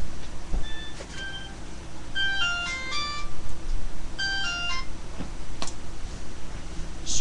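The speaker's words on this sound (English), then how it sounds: "My phone is ringing." A phone ringtone plays two short melodic bursts of bright electronic tones, separated by a pause, over a quiet room background with a few ticks.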